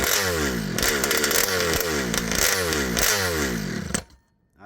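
A scooter engine fitted with an ALX 71cc kit revs hard in repeated rising bursts, a loud, raspy two-stroke wail climbing and dropping about every second before it cuts off abruptly near the end.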